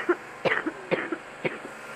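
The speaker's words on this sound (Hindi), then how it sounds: "मुझे ना खांसी हो गई, मेरी तबीयत सही नहीं है" A woman coughs several times in short, separate bursts at close range in a home kitchen, with brief gaps and no speech between them.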